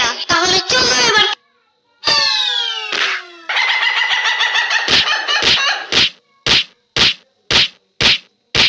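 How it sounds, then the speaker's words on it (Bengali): A hen clucks and squawks as her chick is taken: a few agitated harmonic calls and a longer rising squawk give way to a run of short, evenly spaced sharp clucks, close and loud against silence. "মুরগির বাচ্চা ধরলেই মুরগি কামড় দেয়"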